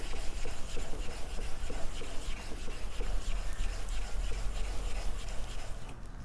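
A 4000 grit sharpening stone being flattened gives a steady, continuous scraping and rasping, close and loud, with no pauses and no voices.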